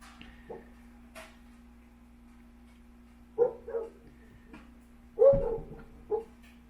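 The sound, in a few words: dogs barking and whimpering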